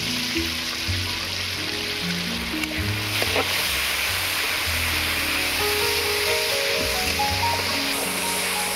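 Sour yogurt added to a sizzling spice mixture with Kashmiri chilli in a pan, for a pointed gourd curry: a loud, steady, rushing hiss runs throughout with a low hum beneath, and no one speaks.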